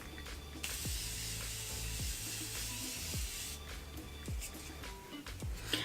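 Setting spray misted from a pump bottle onto a face and a makeup brush, heard as a sustained close airy hiss lasting a few seconds, with faint handling clicks around it and no talking.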